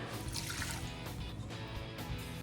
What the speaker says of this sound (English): Let it pour in the water.